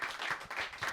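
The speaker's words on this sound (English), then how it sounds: "Guys, first of all, clap it up for these guys." Audience at a Roast Battle League comedy show in New York clapping for the comedians, a dense steady burst of applause with rhythmic swells, close and fairly loud.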